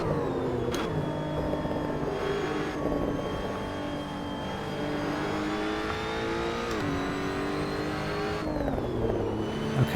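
A race car engine in Assetto Corsa droning steadily at high revs, pitch climbing through gears with brief drops at shifts, loud and continuous with no talk.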